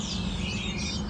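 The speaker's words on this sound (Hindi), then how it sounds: "देखो चिड़ियों की आवाज़ कितनी सुंदर आ रही है" Small birds chirp and tweet near farm fields on a morning outing, a soft steady chatter of calls over a low rumbling background, with no talk.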